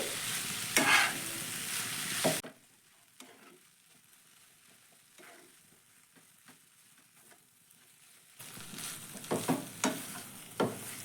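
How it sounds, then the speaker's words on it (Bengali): Cabbage and potato filling for stuffed paratha fries in a pan: loud bursts of sizzling and stirring open and close the stretch, with a much quieter, softly crackling simmer and occasional scrapes between them. "আরও আমি দু মিনিট মতো আলুটাকে কিন্তু বাঁধাকপির সঙ্গে একটু ভেজে নেব"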